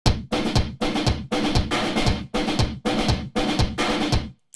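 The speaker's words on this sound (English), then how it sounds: "when you apply a harsh gate to it and distortion and saturation," A gypsy percussion loop run through a harsh gate with distortion and saturation, chopped into abrupt, evenly spaced bursts with sudden silences between hits, loud and gritty, with no talking.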